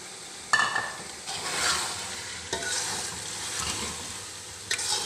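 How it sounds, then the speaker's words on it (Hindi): Chicken, potatoes, turmeric, coriander powder, garam masala, red chilli powder and tomato are stirred in a hot pan, with a steady close sizzle broken by scraping strokes of the spoon and a couple of sharper knocks. "दो मिनट तक अच्छी तरह से भुनाई करके फिर दिखाती हूँ"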